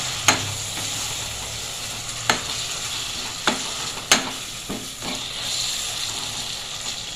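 Two chopped ripe tomatoes sizzling in a pan for a curry, a steady close frying hiss broken by several sharp scrapes and taps as a spoon stirs them.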